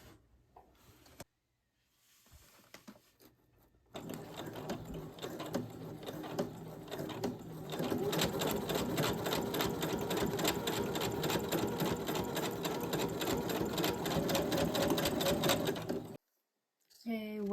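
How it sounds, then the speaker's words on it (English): A sewing machine stitches fabric for a Valentine's-themed journal layout, starting after a few quiet seconds and running steadily and close for about twelve seconds before stopping, with a short restart at the very end. "It's definitely easier sewing from the inside where I can see the fabric."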